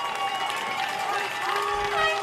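Brampton supporters cheer at a U16 AA championship football game against Etobicoke, a steady, dense crowd roar with whistles and shouts over a broad wash of noise lasting throughout.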